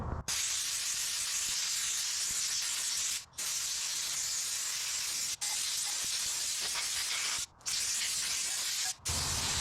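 Compressed air blasts water off a bicycle's moving parts after a wash, a loud, steady hiss in four long bursts, each broken by a brief pause.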